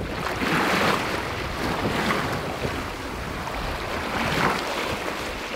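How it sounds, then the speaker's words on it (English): A solo sailboat at sea, waves washing and swirling against the hull with heavy wind buffeting the microphone, surges rising and falling in a slow rhythm, no voices. "I'm a sailor and enjoy the silence and sound from the ocean."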